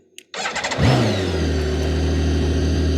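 A BMW K1600 GTL six-cylinder touring motorcycle cranks briefly with a starter whir, then fires and settles into a smooth, steady idle, close and alone.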